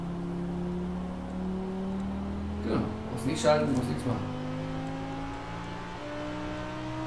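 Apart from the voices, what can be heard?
car driving in third gear in video game Forza Horizon 4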